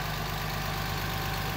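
A 2018 RAM 2500 SLT's 6.7 liter Cummins turbo diesel engine idles with a steady, even low rumble and a faint hiss above it, unchanging throughout and with no talking.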